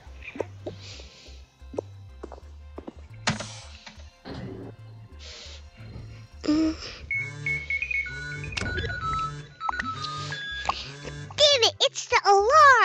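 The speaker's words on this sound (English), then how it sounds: "it's the alarm. I hate when it's the alarm." An alarm goes off in a busy indoor scene, with repeated ringing tones and rising electronic trills among thumps, crashes and voices.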